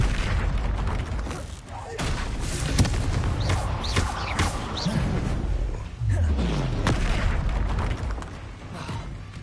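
Confringo blasting spells from Hogwarts Legacy burst in heavy booms and thuds, several impacts scattered irregularly across the fight amid clattering combat effects.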